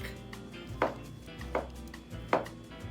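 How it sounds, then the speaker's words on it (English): Knife slicing a mushroom on a cutting board: three crisp, evenly spaced chops close by, with a faint low hum underneath. "we're gonna cut up the mushroom like this, not too thin and not too thick"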